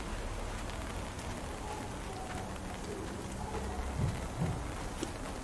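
Steady rain hiss falling over an outdoor environment in the tactical shooter Ready Or Not, continuous and fairly loud, with faint low thuds and scattered game sounds underneath and no talk.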